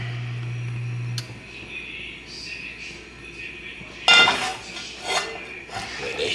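Pan with a little oil shaken on a stovetop, metal scraping and clinking against the burner grate in a few bursts, mid-distance in a quiet kitchen.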